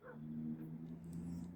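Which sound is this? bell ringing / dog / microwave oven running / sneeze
dog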